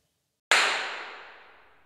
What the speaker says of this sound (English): this reverb impulse response sounds like this